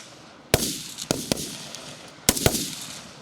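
Sharp gunshots from shooting practice, including sniper rifle fire, crack out in two clusters, a few irregular reports each, echoing outdoors with pauses between bursts.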